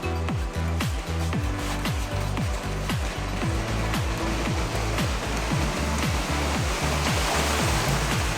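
Floodwater from the Bharathapuzha (Nila) river pours across a submerged road after heavy rain, a loud, steady roar of rushing water with no voices, a low rhythmic thumping pulsing beneath it throughout.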